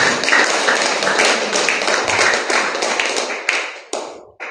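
A church congregation claps loudly together, a dense patter of many hands that holds steady for several seconds, then thins out and stops.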